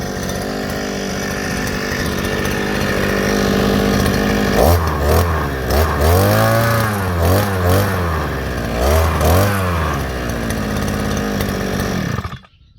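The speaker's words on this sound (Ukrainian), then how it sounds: "Завів його перший раз, на холосту працює сцепління працює, нічого не крутиться." A new Kraissmann petrol earth auger runs its engine after the first start, a loud close two-stroke drone with a series of rising and falling revs in the middle before it cuts out abruptly at the end.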